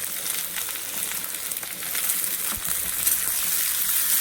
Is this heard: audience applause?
no